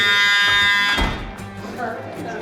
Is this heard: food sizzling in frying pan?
no